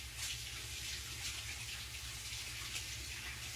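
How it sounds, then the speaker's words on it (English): Tap water runs steadily from a kitchen faucet while hands are washed, a continuous hiss that stays even and fairly close throughout, with no voices. "I'm going to wash my hands"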